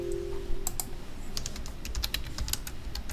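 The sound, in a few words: typing a SQL query on a computer keyboard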